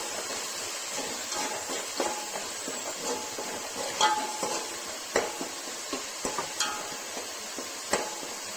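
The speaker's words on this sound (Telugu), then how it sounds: "అందులో గరం మసాలా అలాగే బిర్యానీ మసాలా కూడా వేసి మరొకసారి కలుపుకుందాం." Garam masala and biryani masala being stirred into a frying oil mixture, with a steady sizzle broken by irregular scraping strokes and sharp utensil taps against the pan, close and moderately loud.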